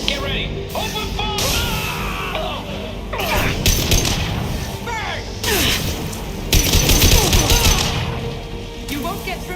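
Sci-fi weapon gunfire in Mass Effect 2 Legendary Edition rattles in rapid, loud bursts mixed with impacts, crashes and booms across a busy firefight, with brief swooshing shots and no talk.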